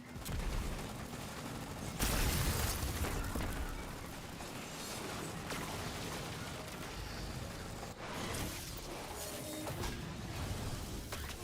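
Grenade explosion in the shooter game Destiny 2, a loud broadband boom about two seconds in that rolls off into a sustained rumble of game noise and scattered effects, with no voices.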